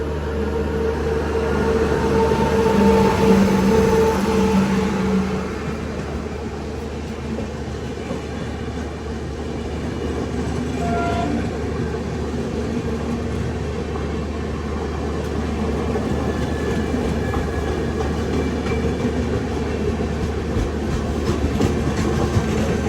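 The Anakapalle to Secunderabad Special Fare Express, train 07056, runs with a loud, continuous rumble and clickety-clack of wheels on the rails, heard up close and alone for the whole stretch.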